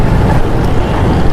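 Loud, steady wind buffets the microphone in a continuous roar with no voices.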